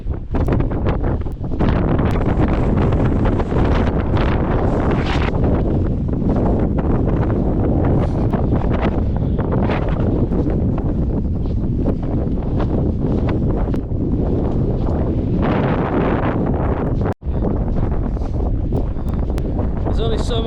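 Strong wind roars across the North Yorkshire Moors and buffets the microphone. The loud, continuous rumble gusts and surges, briefly cutting out once before resuming.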